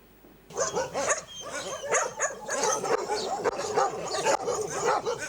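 Several dogs bark, yip and whimper at an animal shelter, an excited, overlapping chorus that goes on throughout, loud and fairly close.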